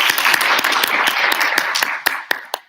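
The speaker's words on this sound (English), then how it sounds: "One last round of applause for them" A room of people at a student senate meeting applauds the newly named student senators, dense steady clapping that thins out into a few last scattered claps near the end.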